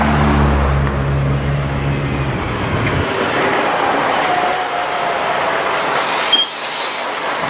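A Volvo B10M/DM3500 bus engine rumbling low and loud during a ride, the drone dropping away after a few seconds as the bus slows, leaving road noise and rattles.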